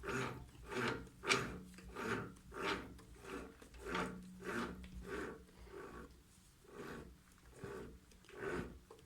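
Rhythmic rasping strokes repeat about once per second, a close, faint scraping as a mini lathe cuts a thread in metal, with a low mechanical hum underneath.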